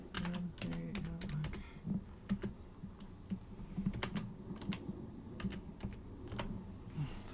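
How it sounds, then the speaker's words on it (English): Rapid keystrokes on a computer keyboard while entering text in Photoshop, with a steady, close clatter of irregular taps throughout and no talking. "And we're going to type wood again."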